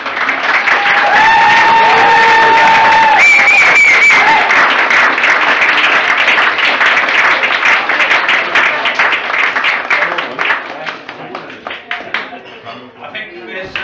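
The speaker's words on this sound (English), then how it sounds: "So they need a round of applause," Applause and cheering for three youth football coaches at a Machynlleth Hurricanes awards presentation, a loud crowd of clapping hands with voices and shouts mixed in, fading toward the end.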